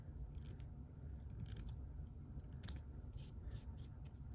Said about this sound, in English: Then I'm going to cut the chenille right down the center on the top.